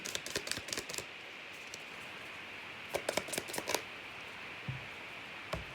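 A deck of tarot-style cards is shuffled close up, with quick crisp riffling clicks in short bursts near the start and again around the middle, quieter pauses in between.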